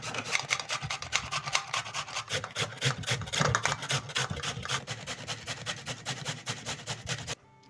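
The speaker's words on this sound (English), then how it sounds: "I'm going to be using these small holes to grate my carrots." Carrots are rubbed quickly over the small holes of a grater, giving fast, regular rasping strokes that run steadily up close and then stop abruptly, with no voices.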